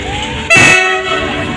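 An approaching train sounds its horn at an outdoor spot in Nalbari, Assam, with one loud, close blast over a steady rumbling background.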